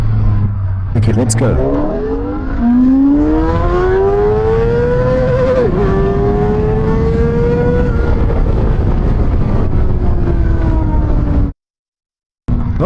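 KOVE 450 RR and VOGE RR 500 S motorcycles accelerate from low speed in first gear, their loud close engines rising in pitch through repeated revving climbs while someone talks over them. The sound cuts out abruptly near the end.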